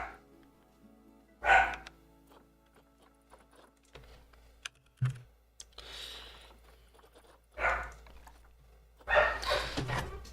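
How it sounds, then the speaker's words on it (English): Dogs bark in short, sharp bursts at intervals, fairly close, with quiet clicking and room noise between the barks. "Dogs, chill."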